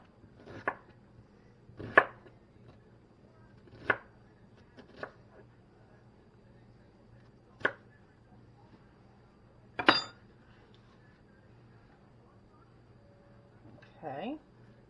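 A knife chops through half of a medium red onion on a board in a series of sharp, separate thuds spaced a second or two apart, with quiet gaps between strokes and a brief scrape near the end.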